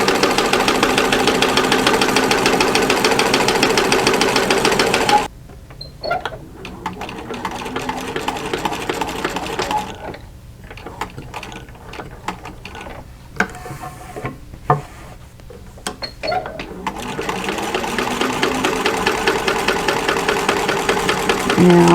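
A sewing machine stitches fabric for an envelope-style pillow cover, running in a steady rapid whir that stops for a stretch of quieter handling and pauses, then resumes its continuous close, loud stitching rhythm.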